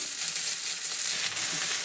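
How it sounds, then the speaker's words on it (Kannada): Ginger frying in hot oil for a pea and potato kurma, a bright continuous sizzle close to the pan with faint stirring crackles, heard alone without speech. "ಅಲ್ಲನೂ ಎಣ್ಣೆ ಕರಿಬೇಕ್ರಿ."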